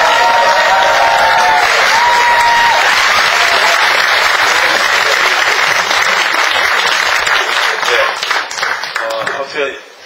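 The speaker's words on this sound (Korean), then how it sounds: "여러분 뜨거운 박수 부탁드립니다." A large audience at a book concert commemorating President Roh Moo-hyun claps loudly with some cheering. The applause is dense and sustained close up, with a voice over it, then thins out at the end.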